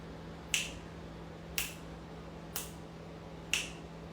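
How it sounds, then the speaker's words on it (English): Four crisp finger snaps land about one second apart, each sharp and close, over a faint steady hum in an otherwise quiet room during a yoga breathing exercise. "I'm going to snap my fingers to the amount of inhales"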